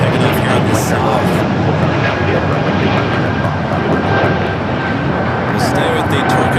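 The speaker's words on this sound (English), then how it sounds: "We do have the Air Tahiti Nui Dreamliner going to be taking off here on the south." An Air Tahiti Nui Dreamliner jet taking off at LAX, a steady loud engine roar filling the whole stretch, with a voice talking over it.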